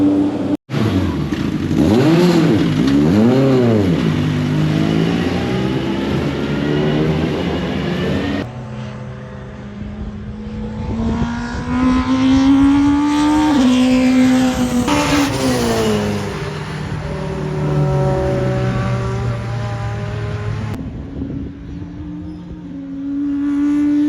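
A 1996 Honda Accord Super Touring race car laps Brands Hatch, its engine loud and close as it revs hard through the gears, pitch climbing and dropping with sharp shifts and lifts.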